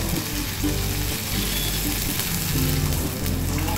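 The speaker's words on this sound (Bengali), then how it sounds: "আলু পেঁয়াজ সব লাল লাল করে ভাজা হয়ে গেছে। এবার এতে দিয়ে দিচ্ছি, অ্যাড করছি জল।" Water poured into a pan of browned fried potatoes and onions hisses in a dense, continuous sizzle that stays loud and even throughout, with no voices.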